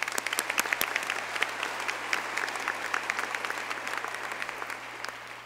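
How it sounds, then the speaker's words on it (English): Audience applause at an art gallery design presentation, steady crowd clapping with a few sharp nearby claps over a faint low hum, gradually tapering off. "They deserve many applause tonight."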